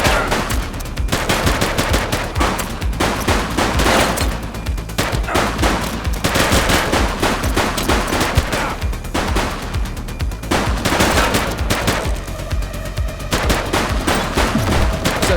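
Sustained automatic gunfire in the police video game The Precinct, loud rapid bursts of shots layered with echoing reports that keep going almost without pause.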